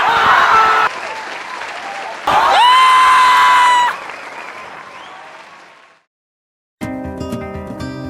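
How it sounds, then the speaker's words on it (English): A graduation audience breaks into sustained applause and cheering for the graduating class, loud and dense, rising to a peak mid-way, fading toward silence, then giving way to music. "Can we give them a round of applause?"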